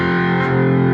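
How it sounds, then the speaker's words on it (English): A four-string cigar box guitar tuned FCFC plays through a Roland Cube 10GX amplifier with heavy distortion, a dense sustained metal chord held loud and steady for about a second. "I'm using the Roland Cube 10GX amplifier, which has a lot of distortion options on it."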